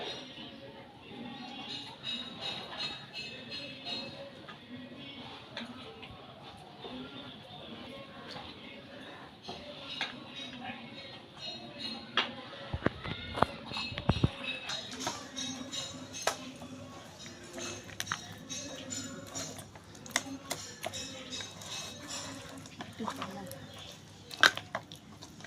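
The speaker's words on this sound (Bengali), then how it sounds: "এবার মা অল্প অল্প করে জল দিয়ে ব্যাটারটা রেডি করে নেবে।" Palm pulp, flour and water batter gets mixed by hand in a bowl, soft wet squishing and slapping with occasional taps on the bowl, faint and close, while someone talks.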